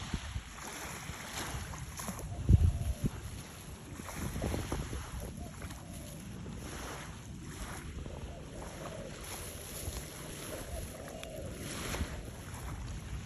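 Sea waves and steady wind at a seashore below a cliff edge, a soft continuous rush of surf with gusting wind buffeting the microphone, one brief thump partway through, faint and mostly alone.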